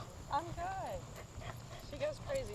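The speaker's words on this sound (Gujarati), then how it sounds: "આ બીજું ડોગી છે" A dog on a morning walk in an American neighbourhood gives faint whimpers and short yips, mostly buried under nearby people talking.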